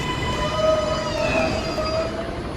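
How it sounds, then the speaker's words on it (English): An R142 subway train on the New York City 2 line runs along the IRT mainline, a steady close rumble of the car with faint tonal motor whine and light wheel noise throughout. "This is a Brooklyn-bound 2 train."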